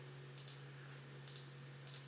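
A computer mouse clicks in quick pairs, three double-clicks spaced evenly apart, faint and close over a steady electrical hum while working in ZBrush, with no talk.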